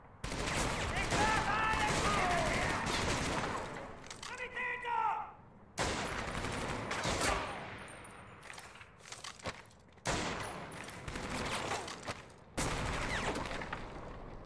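Gunfire in the WWII shooter Medal of Honor: Vanguard sounds as loud, sustained rapid bursts with short pauses between them. A person talks during the shooting.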